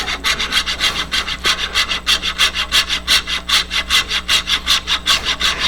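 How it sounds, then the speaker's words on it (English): A hand saw rips steadily through wood near a lathe-turned bowl workpiece, each even push-and-pull stroke rasping loudly in a regular rhythm, up close with no talk. "Use as much of the blade as possible. Let the saw do the work."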